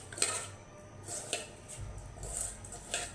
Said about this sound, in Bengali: তেলটা দিয়ে দিলাম, বাড়িয়ে দিলাম, মাছগুলো আর কি মেখে নিতেছি হাত দিয়ে।